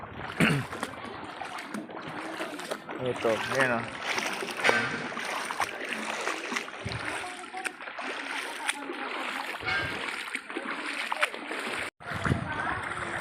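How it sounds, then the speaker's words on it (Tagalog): Seawater from a high-tide flood splashes and sloshes continuously, wading through the water, with people talking over it throughout. "Wala nang katapusan tong baha."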